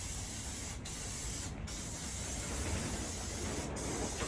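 Spray can paint hisses steadily and close as a Peugeot J9 coffee van is resprayed outdoors, one continuous spray with a few brief breaks, wind faintly behind.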